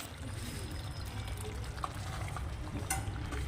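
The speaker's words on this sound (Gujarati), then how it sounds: "ભાજી માટે વઘાર કરી દીધો છે. આમાં કેપ્સિકમ, લસણ, ડુંગળી, ટમેટાં બધું વઘારી દીધું છે." Capsicum, garlic, onion and tomatoes frying for pav bhaji give a soft, steady sizzle with occasional stirring scrapes and a few faint clicks, fairly quiet and close.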